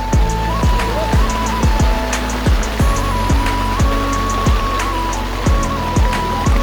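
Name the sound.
rain falling at Fewa Lake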